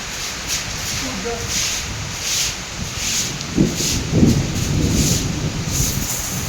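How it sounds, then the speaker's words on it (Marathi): Distant thunder rumbles twice in low bursts beneath the steady hiss of a summer rainstorm in May, with wind noise on the microphone throughout. "ढगांचा आवाज येतोय."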